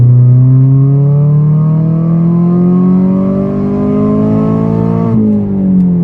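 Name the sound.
car accelerating with exhaust valve open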